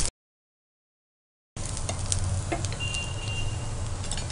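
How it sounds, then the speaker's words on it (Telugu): Cumin, onion and green chilli frying in hot oil for a restaurant-style mixed vegetable curry, a steady close sizzle with crackling pops that begins after a short silence and keeps going. "ఆయిల్ వేడైంది, ఇందులో మనం ముందుగా జీరా, ఆనియన్, అలాగే గ్రీన్ చిల్లీ,"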